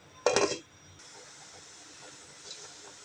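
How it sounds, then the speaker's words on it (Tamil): A short burst of steamy hissing, then a soft, steady hiss of mushroom curry simmering under a lid. "குழம்பு நல்லா கொதிச்சிருச்சு"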